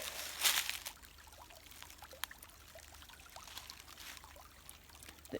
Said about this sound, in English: this is my creek